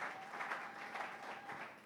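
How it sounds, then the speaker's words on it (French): A church congregation claps together in applause for Jesus, a steady, somewhat distant wash of many hands clapping at fairly low level. "Applaudissez pour Jésus."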